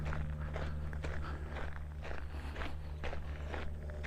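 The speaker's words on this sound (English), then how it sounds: "Sorry about the noise from my feet on the ground, but what can you do? Walking along on gravel." Footsteps crunch steadily on a gravel path during an outdoor walk, close and fairly quiet over a low constant hum, with no talking.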